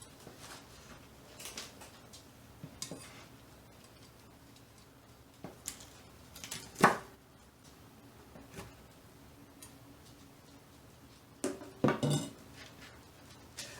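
Knife chopping three slices of ham into small pieces for a sourdough breakfast pizza: sparse, light taps and clicks on a board, with a few sharper knocks standing out in an otherwise quiet kitchen.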